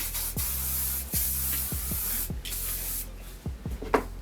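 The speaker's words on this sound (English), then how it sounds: "I'm gonna take this generic thermal spray or whatever," A thermal spray bottle hisses in a long steady mist onto hair, punctuated by several quick pump clicks and short bursts, close up.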